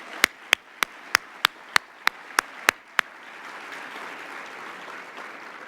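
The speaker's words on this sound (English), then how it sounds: "for all the students, a round of applause" Clapping at a mayor's speech event with student performances begins as about ten sharp, evenly spaced loud claps from one nearby person. Softer, more diffuse audience applause follows at a lower level.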